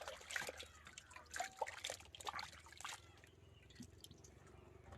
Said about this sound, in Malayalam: വെള്ളത്തിൽ കഴുകാം